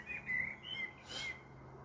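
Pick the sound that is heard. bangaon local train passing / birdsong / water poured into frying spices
birdsong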